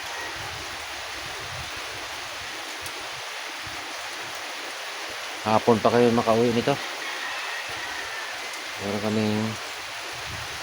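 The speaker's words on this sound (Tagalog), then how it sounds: "Hintayin pa namin na tumigil yung ulan." Steady, hissing rain pours down in Barrio San Jose, a constant wash that fills the whole stretch while a person talks briefly over it in two short bursts.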